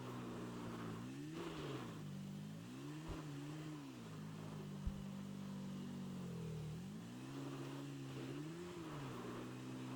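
A motorbike engine in the video game GTA V revs and eases off in repeated rising and falling swells, a mid-pitched drone with short throttle blips, fairly quiet with no talk over it.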